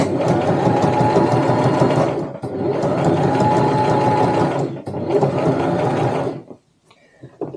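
A sewing machine stitches a tote bag in loud, close runs of a couple of seconds each, broken by brief pauses, ending with a short stop and a faint rustle.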